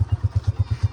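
A motorcycle being ridden, its engine giving a rapid, even low thumping pulse, close and fairly loud, for about one second.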